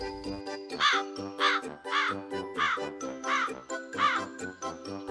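A crow cawing in a run of repeated harsh calls over bright, tinkling chime-like tones with a rhythmic pattern.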